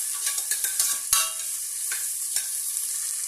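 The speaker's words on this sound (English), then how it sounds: "Just stir fry." Green chili stir-fried in a pan with ghee for South Indian ghee rice: steady close sizzling under a run of scraping spatula strokes and clinks, with a sharp louder scrape near the middle and then a few softer strokes.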